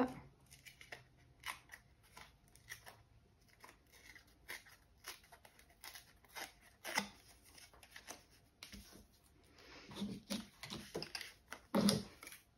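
Scissors trimming a paper photo for a scrapbook make quiet, close snips in irregular bursts with short pauses, soft paper rustling in between and a few louder cuts near the end.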